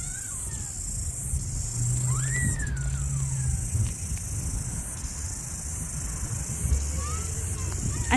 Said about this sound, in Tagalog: Huni ng isang insect.